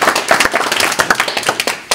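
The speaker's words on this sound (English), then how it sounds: "You can start clapping now because we're celebrating our 30th anniversary this year." Audience clapping at a river watershed association talk, a brief round of scattered applause from a small indoor crowd.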